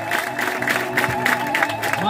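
A church congregation claps together in a quick, uneven patter that stays steady and fairly close, with voices rising and talking over the applause.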